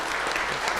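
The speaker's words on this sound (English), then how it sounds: "Well, give him a round of applause" Short burst of audience applause for a sound engineer at an evening talk event, with even clapping at moderate loudness.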